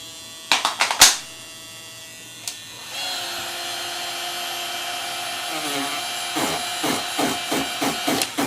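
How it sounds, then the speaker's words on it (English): A Ryobi heat gun starts with a few sharp clicks and then runs with a steady whirring hum and fan whine, accompanied by intermittent rhythmic scraping near the end. "Ryobi heat gun."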